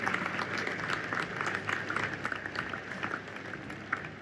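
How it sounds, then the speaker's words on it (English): Audience applause for the Forex millionaires at a Forex trading expo panel session, a steady roomful of clapping sustained throughout, moderately loud with no talk over it. "give a round of applause for all the Forex millionaires in here"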